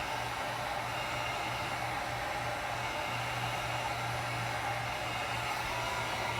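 Heat gun post-heating architectural vinyl film on a flat cabinet door, a steady, loud blowing whir with a constant low motor hum throughout, no voice.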